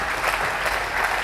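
A church congregation claps in steady, dense applause to acclaim the Lord, a continuous roomful of hands with no pauses.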